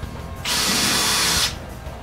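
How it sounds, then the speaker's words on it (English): A power drill whirs steadily for about a second, a loud high-pitched bore enlarging holes in a Mustang rear window louver, then stops into quiet background. "take a drill with a slightly larger bit bigger than the holes in the louver and drill them out"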